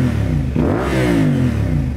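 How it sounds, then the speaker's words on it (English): A CFMOTO 450SS motorcycle engine with a Yoshimura aftermarket exhaust revs hard and close, rising and falling in pitch with a throaty, rasping exhaust note. "that awesome Yoshi exhaust that makes the bike sound so good"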